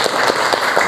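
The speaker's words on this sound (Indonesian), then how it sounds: "tepuk tangan untuk Zaki Mahib" Brief burst of classroom applause for a student, a few distinct claps standing out in a quick uneven rhythm over a short span.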